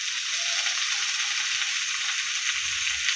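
Green chilies sizzle steadily in hot oil in a pan while garlic and other ingredients for a Bengali fish curry are prepared, a constant bright hiss with no talk.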